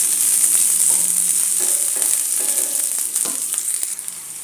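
Crushed green chilli and garlic sizzle steadily in hot oil as the base for a potato masala, with a continuous close frying hiss and occasional stirring scrapes.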